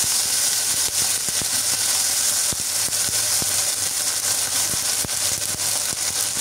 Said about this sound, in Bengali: এখন দিয়ে দিচ্ছি আদা রসুনের পেস্ট